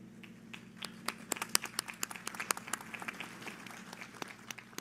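Sparse applause rises at an international industrial parks conference, distinct individual claps ringing out in an irregular patter over a low background hum, with no voices over it.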